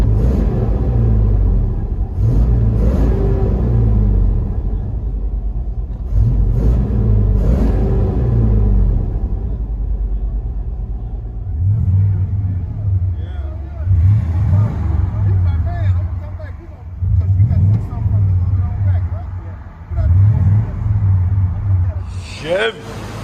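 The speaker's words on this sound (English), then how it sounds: "Chevy Silverado 1500 with a MAGNAFLOW. Let you guys hear on the inside." Cabin sound of a Chevy Silverado 1500 pickup with a 5.7L V8 and MagnaFlow exhaust, deep low rumble swelling in repeated revs and pulls, loud and steady underneath, with someone talking over it at times.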